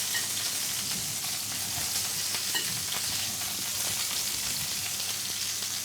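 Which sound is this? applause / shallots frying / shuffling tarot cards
shallots frying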